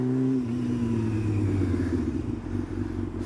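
Motorcycle fitted with an aftermarket exhaust, its engine rumbling loudly and close with a deep, steady throb that eases slightly in pitch over a few seconds.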